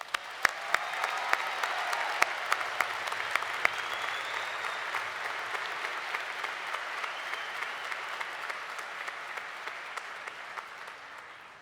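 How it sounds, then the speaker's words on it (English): Sustained applause from a crowd at a university undergraduate commencement ceremony, steady dense clapping with a few sharp nearby claps standing out, lasting throughout. "Let's give them a round of applause"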